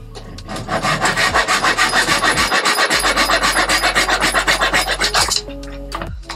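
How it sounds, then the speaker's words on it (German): A hand saw recuts a notch in a wooden part of a ship-model frame set, a fast, even series of rasping strokes, loud and close, that runs for about five seconds before stopping. "Daher säge ich mir die jetzt eben noch mal ein bisschen nach."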